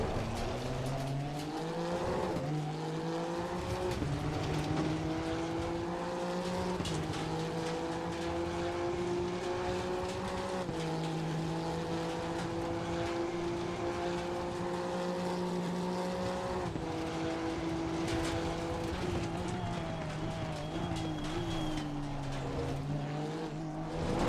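Honda NSX EVO GT3 racing a lap of Monza in the Assetto Corsa Competizione game, a loud continuous engine howl rising through the revs and dropping sharply at each gear change and braking point.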